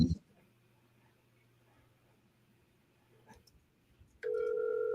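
A telephone redial plays through, with a faint dialing hiss and clicks, then a steady ringback tone starting near the end and holding loud and unbroken.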